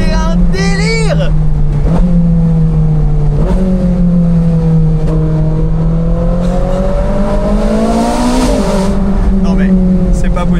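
A classic Ferrari engine revs hard toward 9000 rpm, its howling pitch rising and falling through several sustained blips, loud and close.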